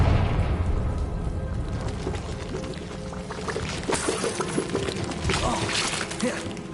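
Confringo blasting spell detonating in Hogwarts Legacy, a loud explosive burst followed by shattering debris and crumbling rubble that spreads into several seconds of sharp, scattered crashes, with some talk mixed in.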